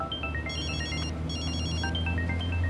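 Mobile phone ringtone sounding for an incoming call near a military post on a border, a bright repeating electronic melody in two phrases, loud and close over steady low background hum.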